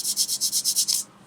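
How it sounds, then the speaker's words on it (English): A sanding stick rubs a nub off a small plastic model kit part, about eight quick rhythmic strokes making a bright scratchy rasp, close and even, then stopping. "let the sander just take that nub away"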